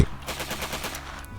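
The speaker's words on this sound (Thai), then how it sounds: "ณบัดนี้เสียงปืนกลมือทางด้านหลังแนวตำรวจกับเริ่มแผ่เสียงขึ้น" Rapid submachine gun fire crackles in a steady burst of repeated shots, sounding like a distant police-line firefight behind a camp, continuous and fairly loud throughout with no voices.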